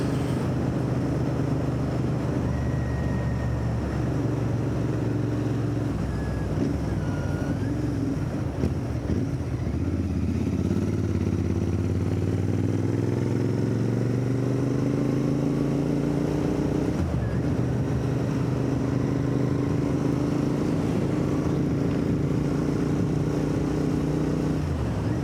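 Interceptor motorcycle cruising on country roads, its engine a steady close drone that swells and climbs in pitch midway, with constant wind rush over the microphone and no talking.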